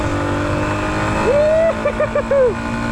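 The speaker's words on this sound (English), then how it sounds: "the engine sure is singing" A small dual sport motorcycle engine on a back road holds a steady drone, then revs up in one long rising pull followed by several short, punchy throttle blips, close and loud.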